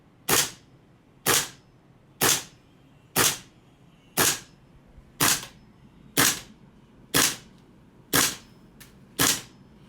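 A GHK AR airsoft rifle fitted with a composite loading nozzle and compressed-air magazine fires ten sharp single shots at a steady pace of about one per second, each crack loud and close with quiet gaps between.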